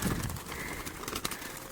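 Turtle doves cooing near a bird trap outdoors, a short, faint, muffled coo against rustling background noise.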